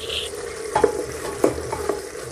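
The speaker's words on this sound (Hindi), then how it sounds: "प्याज को अच्छा भून लेना" Onions sauté in a pan under a low, continuous sizzle, broken by three or four close scraping stirs of a spoon. The sound is fairly quiet overall and nobody speaks.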